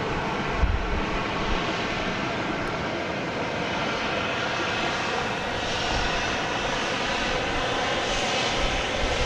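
A Boeing 737 airliner arrives at Dallas Love Field, its engine roar loud, steady and near for the whole stretch, a broad sustained rumble with no voices over it.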